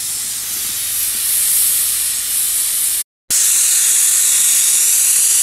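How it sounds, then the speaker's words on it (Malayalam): Pressure cooker cooking tender jackfruit thoran hisses a loud, steady, close steam whistle, broken once by a brief silent gap before the hiss resumes just as strong. "ഇപ്പോൾ രണ്ട് വിസിൽ വരുന്നു"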